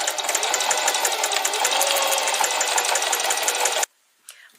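A sewing machine fitted with a denim needle stitches through plastic trash being turned into a bike bag, running in a loud, fast, steady whir for nearly four seconds before cutting off to near silence with a faint rustle.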